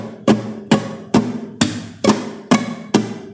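Seven even Spanish guitar rumba strums, each stroke struck at the same volume, a steady evenly spaced rhythm played up close with no voices.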